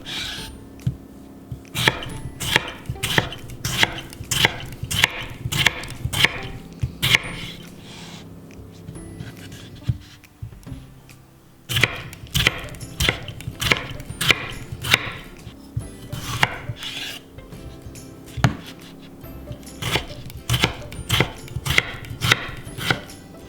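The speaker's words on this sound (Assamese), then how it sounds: "আৰু এইকিটা মই ৰাফলিয়ে কাটি ল'ম" A knife roughly chopping two medium-sized tomatoes on a cutting board for a dal chicken recipe, with crisp rhythmic strikes in quick bursts and a short pause midway.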